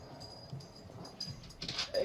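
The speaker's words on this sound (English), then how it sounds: "that's my dog running around." A pet dog moving around indoors, faint soft thumps and shuffling with small whimpering sounds that grow a little louder at the end.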